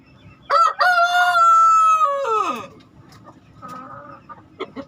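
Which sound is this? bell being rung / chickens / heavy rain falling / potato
chickens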